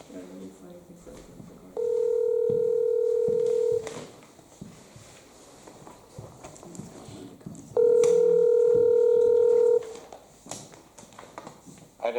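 A telephone call is dialed in during a regular public meeting, giving two steady two-second tones about six seconds apart, heard over background room chatter.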